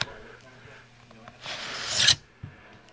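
A bayonet for a Lee-Enfield SMLE rifle slides out of its sheath with a short scraping rasp that rises over about a second and stops abruptly, close and fairly quiet.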